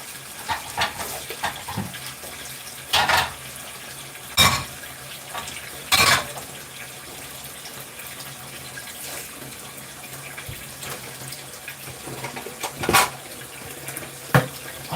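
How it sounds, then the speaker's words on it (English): Tap water runs steadily at a kitchen sink while saucepans are rinsed after a Sunday lunch, with a few louder splashes and clatters standing out against the continuous flow. "I don't really have to wash my saucepans out. Just got to rinse them"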